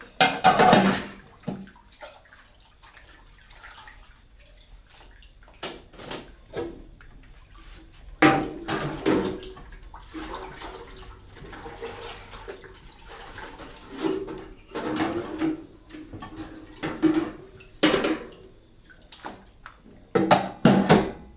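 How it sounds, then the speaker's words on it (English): Pots and dishes are washed by hand, with intermittent water splashing and rinsing alongside clinks of pots, near and moderately loud, with pauses between bursts. "Wash my pots clean, guys."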